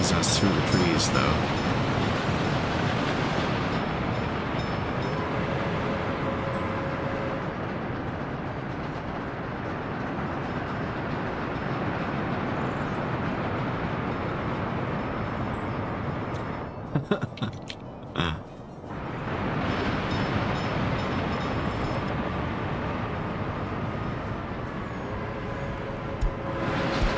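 A train in the city-building game Workers and Resources rumbles past in a continuous broadband roar that holds steady for most of the stretch, with a brief dip in the middle before the noise resumes.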